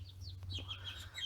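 Eight young birds on a family farm, chirping in high, wavering peeps over a low steady hum, faint and close-by with no talking.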